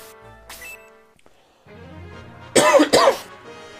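A person coughs twice in quick, loud bursts near the end, after a quieter stretch with a soft throat noise.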